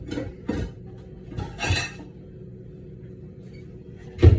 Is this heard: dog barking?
no